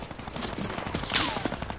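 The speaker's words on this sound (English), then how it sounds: "You got a minigun, bro." A minigun firing in an online shooter game, a sustained rattling burst of rapid gunfire heard at moderate distance, fairly faint and continuous across the moment.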